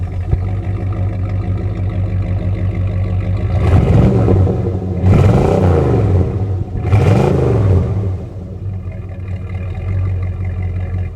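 A Jeep Grand Wagoneer with a rebuilt 360 V8 fitted with a Sniper fuel injection system rumbles at a steady idle, then blips the throttle in three loud, rising-and-falling revs a second or so apart before settling back to idle.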